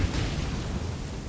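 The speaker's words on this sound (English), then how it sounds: "Explosion!" A loud, continuous rumbling blast from an Ash of War skill in Elden Ring, heavy low-end roar sustained throughout with no talk.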